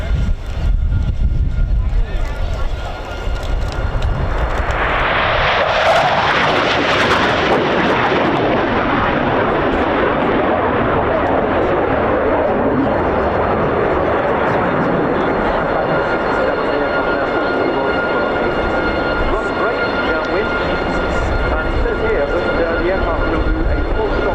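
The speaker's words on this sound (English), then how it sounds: "the classic sight of one of the two tornadoes, low, fast, wind swept back, RB199 engines at full" A Panavia Tornado jet on a low, fast pass with RB199 engines at full power at an airshow at RAF Fairford, its roar swelling quickly and then trailing into a long, steady rumble.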